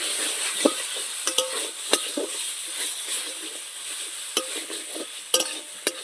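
Grated radish and shelled green peas are sautéed in a pan for a vegetarian radish dish, a bright frying hiss with repeated scrapes and clinks of a spatula against the pan.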